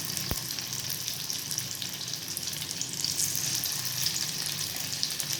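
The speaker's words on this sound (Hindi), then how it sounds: "इसको गोल्डन ब्राउन होने तक फ्राई करेंगे दोनों साइड से। हम इसे शैलो फ्राई करेंगे" Soya chunk kebabs shallow frying in oil in a pan give a steady, close hiss and crackle that holds evenly throughout, with one brief knock near the start and no voices.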